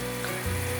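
Water at a rolling boil around fried tofu puffs, a steady close bubbling roar with a continuous low hum, no voices.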